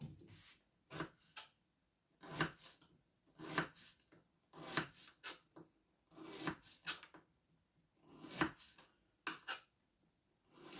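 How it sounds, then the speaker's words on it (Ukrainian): Close, sharp knife chops through onion on a cutting board while liver fries nearby, coming in quick clustered bursts with short pauses between them. "наріжемо цибульку"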